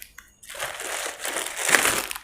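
Plastic bags and containers from an Asian takeaway delivery order crinkle and rustle as they are unpacked, a steady close crumpling that swells near the end, no talking.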